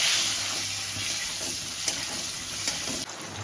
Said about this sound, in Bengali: পেঁয়াজটা খুব সুন্দর ভাজা হয়ে গেছে।